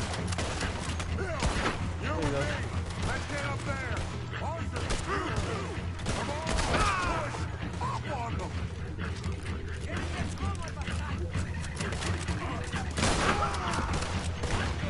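Gunfire from a shootout in Red Dead Redemption 2 on the island of Guarma, heard as scattered shots amid mechanical clatter and game noise, with a player talking over much of it.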